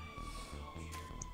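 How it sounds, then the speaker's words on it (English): A siren wails faintly outside during a game session, a thin steady tone behind the room sound with a brief extra chirp near the end, while a voice talks over it. "Excuse the ambulance"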